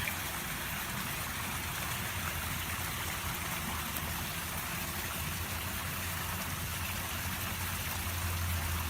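Backyard pool waterfalls splashing at night, a continuous rain-like patter and hiss of falling water, even and fairly faint, heard alone with a low rumble underneath.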